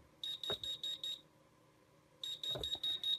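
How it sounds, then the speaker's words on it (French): A fire alarm control panel buzzer sounds during an alarm test, giving a series of sharp, high, evenly spaced beeps in two bursts separated by a short gap, with brief clicks and handling noise nearby. "on ne peut pas arrêter le buzzer"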